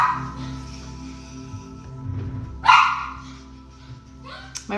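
A startled dog barks and whimpers in a house after a door is opened, with one sharp loud bark near the middle, a few softer yips and a person speaking soothingly over it.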